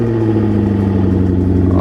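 A C5 Corvette V8 runs after a cold start, giving a loud, close, steady rumbling idle with a deep, even pulse throughout.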